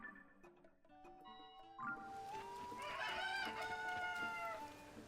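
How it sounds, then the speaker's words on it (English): Cuckoo chickens in The Legend of Zelda: Tears of the Kingdom, steady clucking that swells into a rooster-like crow, quiet at first then louder and sustained over soft game ambience. "Alright, let's find ourselves some cuckoos."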